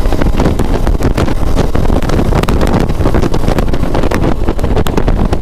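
A KTM Adventure 250 motorcycle accelerates on the road, its engine roar heavily buffeted by loud wind noise across the microphone, dense and continuous throughout, with no voices.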